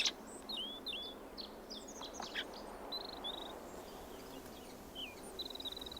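Robins singing on the Canary Islands, a new subspecies, with several short whistled phrases and chirps at moderate distance over a steady wash of background birdsong and ambient noise.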